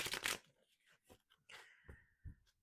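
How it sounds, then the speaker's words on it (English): Tarot cards are shuffled close to the microphone, a quiet run of short riffling, flicking and sliding bursts with brief pauses in between, heard alone. "Just giving the cards a very good shuffle."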